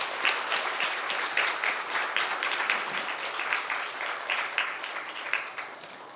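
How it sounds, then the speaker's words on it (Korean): A church congregation at a Sunday worship service gives loud, continuous applause, with dense rippling claps that stay steady and full throughout before easing off slightly at the end. "다시 크게 영광의 박수를 돌리겠습니다."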